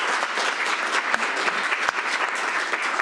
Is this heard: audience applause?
yes